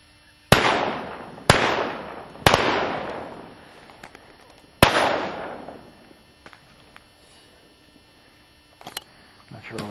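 Shotgun-style blasts from a duck hunt: four loud, sharp reports in quick succession, each ringing out with a long echoing tail across open ground, then quieter scattered pops and rustling.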